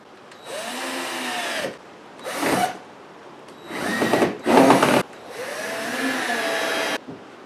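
A power drill drives screws into the hatch of a 14 ft jon boat: four separate whirring bursts of one to two seconds each, close and fairly loud, with short pauses between them and no talking.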